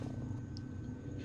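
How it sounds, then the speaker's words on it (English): A cat purring nearby indoors, a low continuous rumbling purr, soft and steady, heard alone without talk. "My cat's in here purring!"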